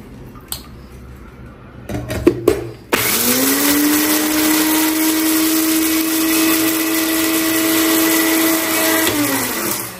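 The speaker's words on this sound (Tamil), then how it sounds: "இந்த வந்து மிளகாவை போட்டு அரைச்சிக்கலாம்" A kitchen mixer grinder with a two-blade jar grinds chillies: a few clattering knocks of the jar first, then a loud, close, continuous motor whine that holds steady for about seven seconds.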